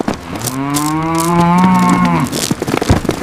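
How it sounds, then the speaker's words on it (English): Loose dairy cow on a street outside a burger restaurant in Oklahoma, giving one loud, close, drawn-out moo lasting about two seconds, with scuffling noise after. "Police in Oklahoma had to safely wrangle a dozen loose dairy cows that gathered outside a local burger joint window."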